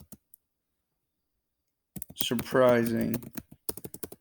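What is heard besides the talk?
typing on a computer keyboard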